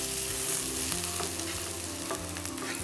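Salted chopped onion sizzling in olive oil in a pan over medium-high heat, a dense continuous crackle with light stirring knocks, no voices.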